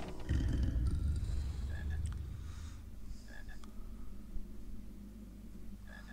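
Frog croaking in the Harry Potter Philosopher's Stone PC video game, a few short repeated croaks over a low steady game background hum, fairly faint, without talk.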